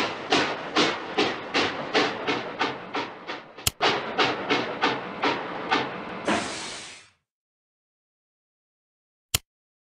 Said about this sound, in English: click the train whistle button